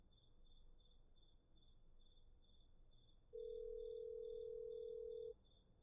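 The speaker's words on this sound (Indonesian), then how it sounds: "Oh, ada suara telepon." A telephone rings in the video game Mother Wish 2, a steady pulsing electronic trill repeating alone throughout, with a separate flat tone joining partway through.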